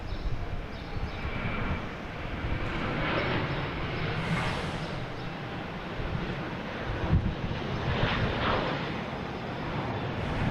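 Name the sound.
JetBlue Airbus A321 taking off at Boston Logan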